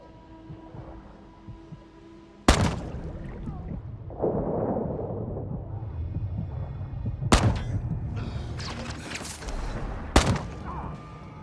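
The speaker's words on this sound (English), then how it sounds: "They're using grenades in the water." Sharp muffled blasts from grenades exploding underwater in Call of Duty: Modern Warfare II, three sudden booms over a low churning rumble, with water surging and bubbling after each.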